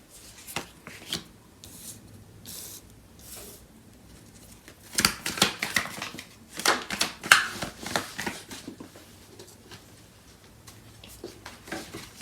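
Tarot cards being shuffled and drawn for a love reading: soft rustling and sharp riffling bursts, louder and busier in the middle, with quiet gaps and no talk.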